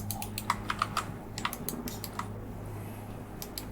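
Computer keyboard keys pressed while modelling in 3D software, a quick run of light clicks followed by a few scattered taps, close and fairly quiet over a low steady hum.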